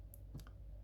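A computer mouse clicks a few times, brief and quiet, while someone sketches a boundary on a map on screen; no talking.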